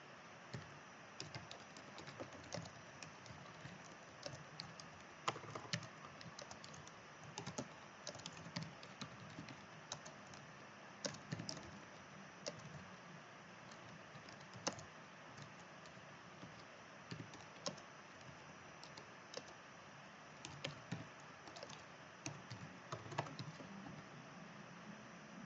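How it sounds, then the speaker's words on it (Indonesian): Someone types a title on a computer keyboard, producing quiet, fairly steady clicking keystrokes with brief pauses, close and soft, with no talking. "Jadi di sini saya simulasikan untuk mengetikkan judul."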